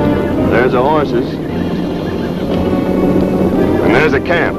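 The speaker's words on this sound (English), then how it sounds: "There's the horses." Horses whinny and neigh outdoors in an old Western film scene, with two clear whinnies, near and fairly loud, over background bustle and voices.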